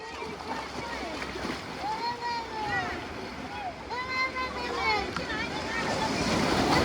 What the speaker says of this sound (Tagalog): Maalon yan.